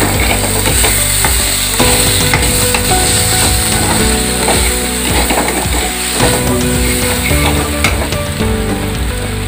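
Tomatoes go into a pan of spices frying in a small amount of oil for a healthy chicken dish, producing a loud, continuous sizzle with scraping and stirring clatter close by.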